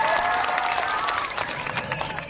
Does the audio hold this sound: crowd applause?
yes